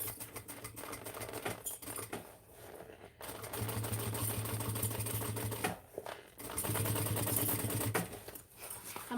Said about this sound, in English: I just find it works better if I do a basting stitch first.